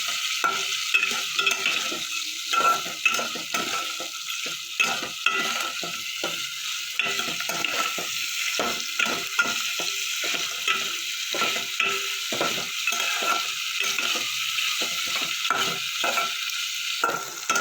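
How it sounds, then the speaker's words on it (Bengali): Chopped onions fry with whole cinnamon, cloves and cardamom in a pan for a Bihari-style egg curry, a continuous close sizzle broken by repeated scraping stirs in an uneven rhythm. "পেঁয়াজটা আমার ভাজা ভাজা হয়ে গেছে।"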